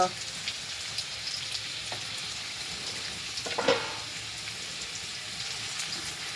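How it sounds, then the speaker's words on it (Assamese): Potato pieces fry in a pan, giving a steady quiet sizzle throughout with a brief louder crackle midway, with no talk. "আলুকেইটুকুৰা অকণমান ভাজি ল'লে খাই খুব ভাল লাগে"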